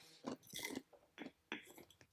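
Crunchy freeze-dried goji berries crushed between the teeth in several quick, close bites, with irregular crackling bursts and short pauses, no talking.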